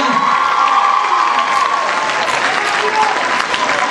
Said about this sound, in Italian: Un forte applauso per favore,